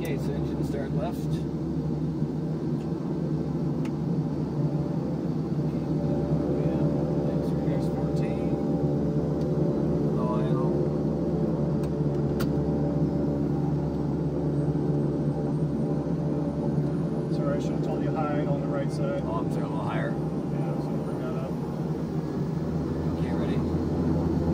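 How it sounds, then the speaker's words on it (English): A loud, constant turboprop engine roar from a King Air 200 starting its left engine, with a low, steady drone filling the whole stretch, and people talk briefly over it. "Okay, so engine start left."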